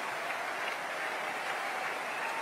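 A concert audience at the BBC Proms applauds wildly for a cello performance, a dense, steady wash of clapping that fills the hall without pause.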